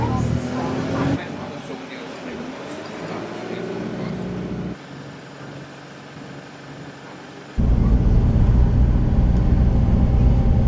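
Inside a moving bus, a steady broadband engine and road rumble shifts in level several times and grows louder toward the end, with someone talking over it.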